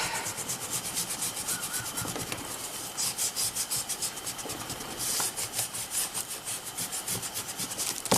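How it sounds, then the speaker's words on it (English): An eraser rubs out pencil lines on a die-cut butterfly flip card, a close, rapid back-and-forth scratchy rubbing that keeps a steady rhythm for several seconds. "I'm going to rub out these lines down here."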